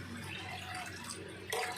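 Water is added to dry masala in a pan while cooking Odia pakudi curry. It gives a quiet, steady trickle with faint bubbling, then a brief louder splash near the end.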